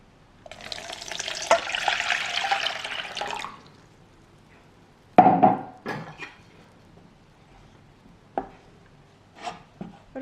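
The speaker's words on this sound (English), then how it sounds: "To this we're gonna add some water." Water pours into a bowl as bread dough is started, a broad steady splashing stream lasting a few seconds, followed by quieter scattered clinks and knocks of kitchen handling.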